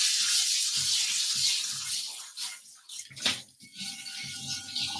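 Running water rinsing a cast iron pan after a lye tank soak, a loud steady hiss of the stream that breaks into uneven splashing and clattering as the pan is moved under it.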